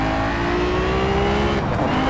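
A race car engine roars steadily in the Shift 2 Unleashed racing game, a loud continuous drone whose pitch climbs slowly and then dips near the end, with no talking.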